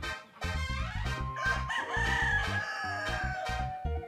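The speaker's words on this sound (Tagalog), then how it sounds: "Bakit nga ba tilaok ng tilaok ang mga manok?" A rooster crows loudly and close by, a long strained call, with other hens clucking in short bursts around it.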